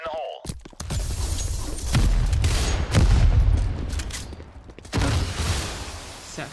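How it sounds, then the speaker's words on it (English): Grenade explosion in a competitive match of a shooter game: heavy booming blasts with rumbling and gunfire, loud and close, with a second burst near the end. "Grenade! Fire in the hole."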